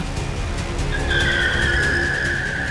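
Tires squealing in a long, loud, high-pitched screech from a car whose brakes have failed, over a steady engine roar nearby.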